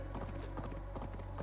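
Horse hooves clip-clop at a steady riding gait in Assassin's Creed Valhalla, a continuous run of close, even hoofbeats over a low game-engine rumble with no talk.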